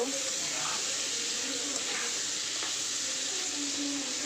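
Rui fish cooks with potato and pointed gourd in a home kitchen, a steady, close hiss of sizzling oil that runs unbroken at an even level throughout.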